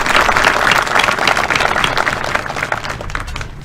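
A banquet audience at a high school football awards event gives a round of applause for the coaches' wives, a dense, loud, continuous clapping that fades slightly toward the end.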